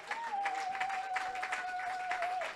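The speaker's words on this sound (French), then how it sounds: "On peut acclamer pour le Seigneur." A church congregation applauds and cheers for the Lord during a worship service: dense, steady clapping throughout, with a long sustained high tone held above it.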